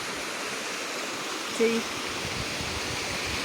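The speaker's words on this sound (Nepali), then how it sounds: "हाम्रो विद्यालय नजिकै रहेको खोला चाहिँ सानो सानै छ।" A small stream flows near a village school in Bhojpur, Nepal, giving a steady, even rush of water throughout, with a brief spoken word partway through.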